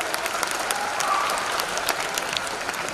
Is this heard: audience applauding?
yes